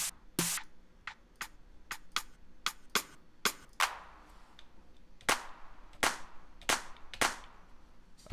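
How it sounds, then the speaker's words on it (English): A crisp clap sample played in Studio One 3, repeating as a string of sharp, dry hits in an uneven loop-like rhythm, alone and fairly quiet. "I was listening to a clap that I thought was pretty dope."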